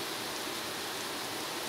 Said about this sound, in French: Il pleut moins, puis d'un coup c'est le déluge.